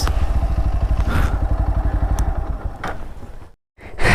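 A motorcycle on a narrow, slippery muddy road through farm fields runs loudly nearby with a pulsing, rapid engine chug, then clatters and thuds as it tips over, followed by a brief silence and a renewed burst of noise.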